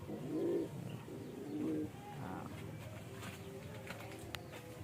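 A racing pigeon arriving from San Fernando coos twice in low, breathy bursts close to the microphone, followed by faint chirps and light fluttering patter.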